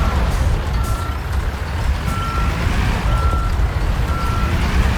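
Truck reversing in Construction Simulator, its backup alarm beeping at an even interval over a loud, steady engine drone; no one talks.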